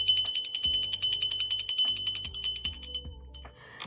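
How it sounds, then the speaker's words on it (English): A bell rung for spirit guides, guardian angels and ancestors gives a string of bright, loud metallic rings, struck again and again in quick bursts, close and alone, with the tone ringing on and fading at the end. "I'm going to ring the bell for my spirit guides, guardian angels, and ancestors"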